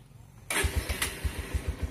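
A carbureted motorcycle fires up on the first press of its electric self-start, then settles into a steady, close, rhythmic idle thump.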